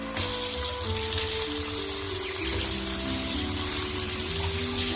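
Water pours and splashes for goslings, a steady, close running stream with faint tonal pump-like hum underneath, continuous for several seconds.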